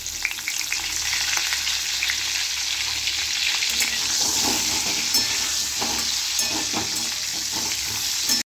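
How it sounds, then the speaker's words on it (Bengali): Pointed gourd (potol) pieces dusted with turmeric frying in hot oil, giving a steady close sizzle with occasional stirring scrapes and crackles throughout, no voices. "এবার আমি পটলগুলোকে ভেজে নেব।"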